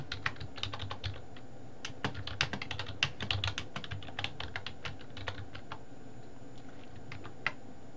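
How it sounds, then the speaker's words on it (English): Quiet, close computer keyboard typing in a rapid, uneven run of light clicks for several seconds, thinning out into a few scattered keystrokes toward the end, over a low steady room hum. "So I'm going to type in the text, hello to all you buckaroos."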